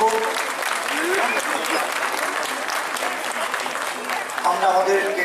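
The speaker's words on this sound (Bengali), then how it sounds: "আমরা জোরে করতালির মাধ্যমে তাকে অভিনন্দিত করব।" Steady crowd applause greets a singer at a Distributors' Day celebration, with a voice speaking over the clapping at the start and another near the end.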